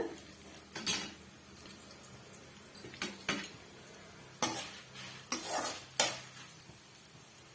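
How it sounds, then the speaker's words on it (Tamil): Chutney ingredients roasting in hot oil over a medium flame, with a steady low sizzle broken by repeated scraping stirs of a spoon against the pan, close and fairly loud with no talking. "சேர்த்துட்டு மீடியமான ஃப்ளேம்ல வச்சு வறுத்து விட்டுக்கலாம்"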